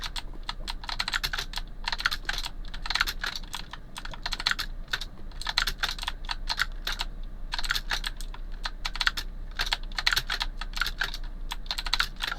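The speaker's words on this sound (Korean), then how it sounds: "화려한 키보드 소리." Rapid, clattering computer keyboard typing in bursts of keystrokes, close and fairly loud, during a Minecraft game session.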